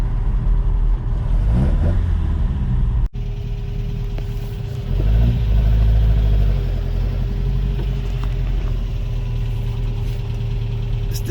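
Toyota truck with a rebuilt 22R engine on stock carburetor jets, running close and steady as it drives, with a brief dip in the middle and then a heavier surge of engine noise, no voices.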